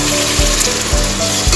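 Chopped tomatoes fry in a pan for tomato bath, giving a steady close sizzle with a few soft stirring thumps.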